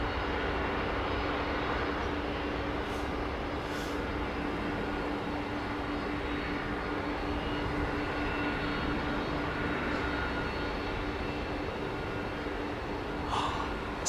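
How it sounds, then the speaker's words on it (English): A Boeing 767 airliner on runway 09R gives off a constant, loud jet engine roar that stays even throughout, with no talking. "Listen to this 767."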